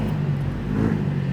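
Double-decker bus with a Laksana SR3 body on a Scania chassis at Palembang bus terminal, giving a loud, steady low engine rumble that holds throughout with no talking.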